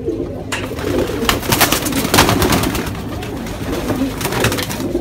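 Racing pigeons coo steadily inside a loft of champion-line birds in Batangas, Philippines, a dense, continuous murmur of many overlapping calls with scattered wing flutters, close and fairly loud with no talking.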